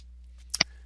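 Two quick, crisp clicks from a computer keyboard, close and distinct over a faint steady hum, as values are typed into a table.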